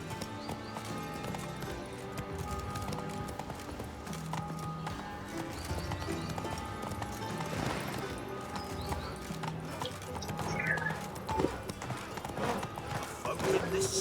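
Horse galloping in a video game, rhythmic clip-clop hoofbeats running steadily under game music, with a whinny and speech mixed in.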